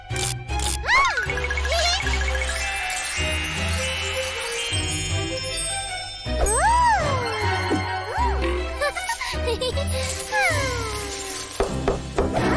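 Cartoon wind-up toy kitty, gold-colored, giving several sliding synthetic meows with bright tinkling chimes over a steady musical backing, loud and close.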